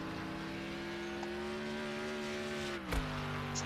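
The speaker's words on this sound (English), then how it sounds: "love that sort of throaty roar of the engine" An AMG Mercedes GT3 race car engine drones in a racing video game qualifying at Monza, a steady throaty tone that drops sharply in pitch near the end as the car shifts or brakes.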